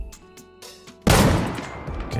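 Gunfire in the survival shooter game Deadside: low ambient background, then a sudden loud burst of shots with a rumbling, decaying tail and a few further pops near the end.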